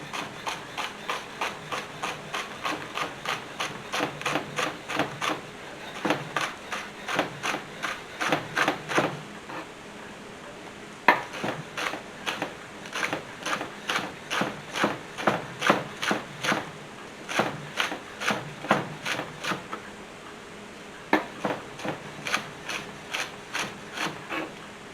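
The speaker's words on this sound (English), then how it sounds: "I've got some washed lettuce here, and I'm going to shave it so it'll stay on the sandwich" Washed lettuce being shaved with a knife for a sandwich: fast, steady runs of crisp scraping strokes, close and clear, in bursts separated by short pauses, with no talking.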